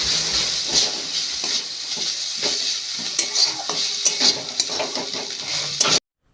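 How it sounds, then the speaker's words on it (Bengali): Drumstick flowers fry in a pan with a steady crackling sizzle as a utensil repeatedly scrapes and clinks through them, close and continuous, then everything stops abruptly. "ফুলগুলি অনবরত ভাজতে ভাজতে দেখবেন অল্প একটুখানি হয়ে আসবে"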